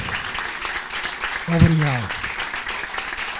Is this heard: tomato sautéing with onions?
no